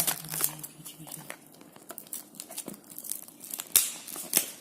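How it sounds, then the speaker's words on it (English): A Mi Band 2 HRX Edition box is opened, its packaging crinkling and rustling in close, irregular bursts with a couple of sharper snaps near the end. "So now we are going to unbox it."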